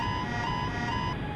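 Steady electronic warning tone with bright harmonics in the cockpit of a Boeing 757-300 in Flight Simulator X, the autopilot disconnect alert sounding continuously over low engine and wind rumble.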